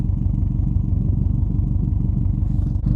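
A winter beater car idles steadily, heard from behind at the exhaust, giving a low, even, rhythmic rumble that stays close and constant.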